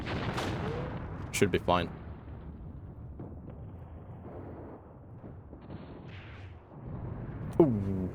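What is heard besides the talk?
machine gun fire in the video game Mius Front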